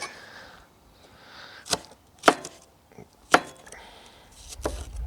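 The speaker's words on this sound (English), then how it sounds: "We are going to kind of chop them into batons" A knife chops vegetables into batons on a board, giving three sharp, separate strikes spaced a second or so apart, with quieter handling and board taps in between. The sounds are close and there is no talking.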